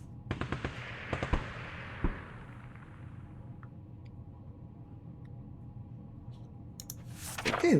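Rifle shots in the survival video game 60 Seconds!, a quick burst of sharp cracks near the start followed by a couple more single reports, then a faint lingering hum and a brief noisy swell at the end.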